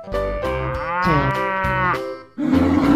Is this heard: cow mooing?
yes